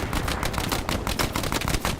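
Dense, rapid gunfire from the WWII shooter game Hell Let Loose, with overlapping automatic bursts and single shots crackling loudly and continuously with no pause.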